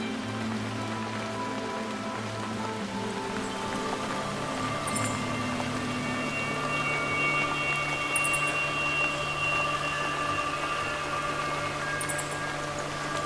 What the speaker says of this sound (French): Restez simplement présent à cette pluie, laissant chaque goutte